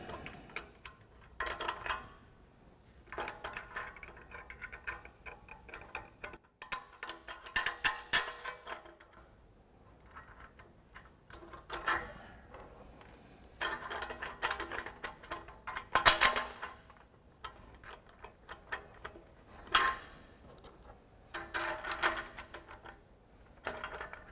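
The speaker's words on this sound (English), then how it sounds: "And now we'll just work our way around installing all of those bolts and nuts." Bolts and lock nuts being fitted by hand to a Barricade Trail Force HD front bumper on a 2021-2024 Ford Bronco, with bursts of quiet metallic ticking, clicking and ratcheting separated by short pauses, no talk.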